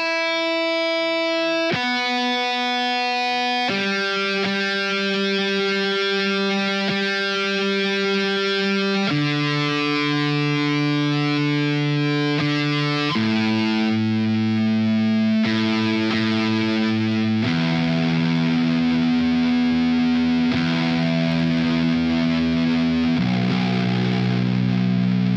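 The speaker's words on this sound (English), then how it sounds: "Okay, so a quick tune up." Distorted electric guitar tuned up string by string, each low, sustained, buzzy note ringing loud and close for a few seconds before the next, stepping downward through the strings, with no talking.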